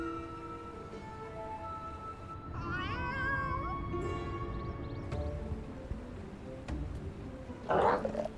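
A cat meows inside Final Fantasy XIV, a few high, wavering cries set over steady game music and ambient tones, moderately loud and without talk.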